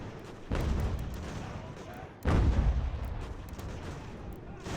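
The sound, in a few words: artillery fire in video game Ultimate General: American Revolution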